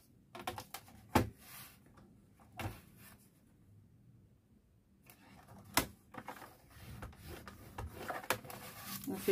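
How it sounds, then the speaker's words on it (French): Paper being folded and creased by hand for a scrapbook album: scattered soft taps, rubs and crisp crackles, quiet and close, with gaps of near silence between them. "On vient juste faire des plis."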